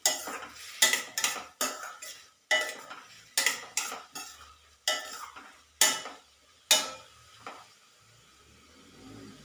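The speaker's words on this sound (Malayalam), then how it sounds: "ഇതൊന്ന് ഇളക്കി കൊടുക്കാം." Kadala curry of chickpeas with onions stirred in a pot, a series of spaced metal spoon scrapes and clanks against the pot over a faint sizzle, close and clear with no talk.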